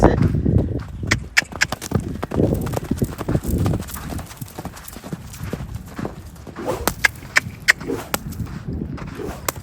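Loose horses gallop past, their hooves drumming in quick irregular clip-clops that swell and fade, with someone talking over the pounding and an occasional whinny.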